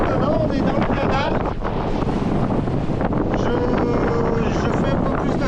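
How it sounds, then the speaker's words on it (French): A 25-knot wind roars across the microphone of a sailboat in a channel off Guinea-Bissau's Bijagos islands, loud and unbroken, with water rushing against the hull. "Là il y a 25 nœuds de vent, on est dans le canal"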